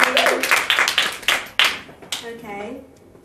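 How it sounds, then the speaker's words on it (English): Applause from a showcase audience for a singer, sharp separate claps in an irregular rhythm that fade between bursts, with brief voices and cheers rising underneath toward the end. "another round of applause, please, for Ray."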